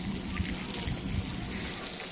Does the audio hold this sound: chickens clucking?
no